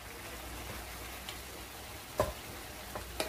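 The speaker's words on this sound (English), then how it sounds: "I'm going to add my scallion or onion leaves." Scallion leaves being stir-fried into Mongolian beef made with tenderloin and red onions, a steady low sizzle in a pan broken by a few sharp clicks of a utensil against the metal.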